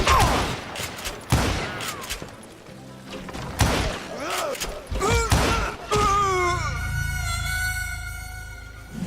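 Repeated gunfire from a Western shootout in the video game Call of Juarez: Gunslinger, loud bursts and shots with thuds, a game voice speaking between them and a sustained musical tone toward the end.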